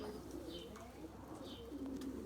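Erzurum white pigeons give soft, faint coos from somewhere behind, under a tree, against a steady wash of outdoor background noise.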